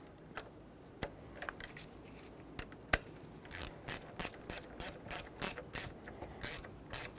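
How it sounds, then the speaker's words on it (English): Close, sharp ratchet clicks from a hand ratchet snugging the negative battery terminal clamp onto the post of a 2000-2005 Ford Excursion, a few scattered clicks at first, then a quick regular run of strokes. "Now let's connect the negative battery terminal. Put it back over the post on the battery and snug this up."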